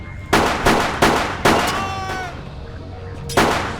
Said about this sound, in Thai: โอ้ยปืนลั่น โอ้กูยิงล่องเลย